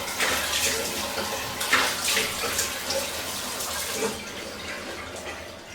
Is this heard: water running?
yes